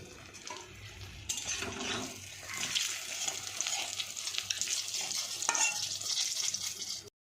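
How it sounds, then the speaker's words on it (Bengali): Eggplant slices fry in a pan in a home kitchen, a steady close sizzle with stirring and scraping swelling and easing throughout. "এই দেখো আমার বেগুন ভাজা হয়ে গেছে"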